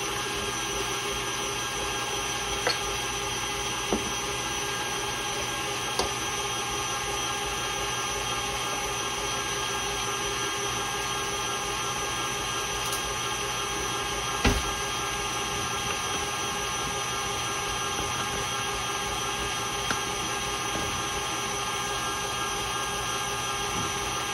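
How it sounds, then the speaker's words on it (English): An electric hand mixer runs continuously through bread batter for cranberry orange bread, a steady close motor whine and hum with a few brief knocks of the beaters against the bowl. "You can actually use a regular mixer."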